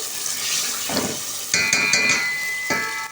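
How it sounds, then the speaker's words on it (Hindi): Ginger being roasted in a pot for aloo gosht gives a steady sizzle, broken by a few scraping stirs and clinks partway through. It is close and moderately loud, with no talking. "अदरक को भी हमने अच्छी तरह से भून लिया है"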